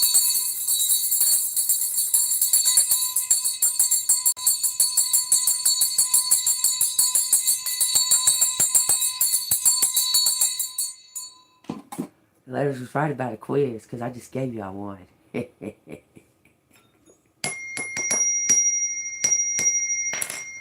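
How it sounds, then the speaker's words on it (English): A small bell rings rapidly and continuously for about ten seconds, bright and close, followed by someone speaking and then another short burst of ringing. "Let me ring this damn bell."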